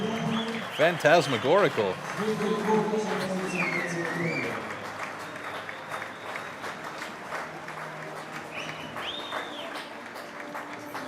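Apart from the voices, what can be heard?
audience applause for the Swiss team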